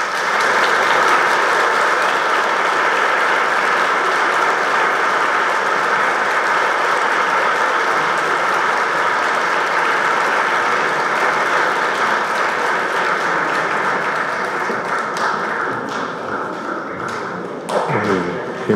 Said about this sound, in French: Je voudrais qu'on les accueille en les applaudissant.